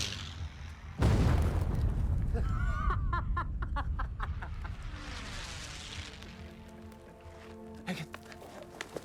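Bombs exploding during an aerial attack in an Indonesian historical war film set in 1947: a sudden heavy boom, then a long rumbling decay under music and scattered voices.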